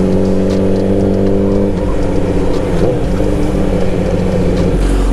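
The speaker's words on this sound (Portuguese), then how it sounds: "é a primeira vez que eu tô andando de uma moto carenada assim" Honda CBR 1000 faired sport motorcycle with steady engine drone and revving, loud and close, running continuously with no talk.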